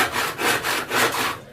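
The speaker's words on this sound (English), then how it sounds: "Definitely not a hacksaw, but you're getting warmer." Back-and-forth sawing through wood, a steady rhythmic rasp of about five strokes, close and fairly loud with no voices.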